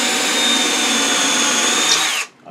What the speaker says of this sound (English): we're going to drill a hole right there